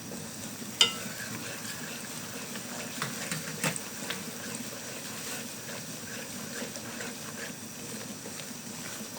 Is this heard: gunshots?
no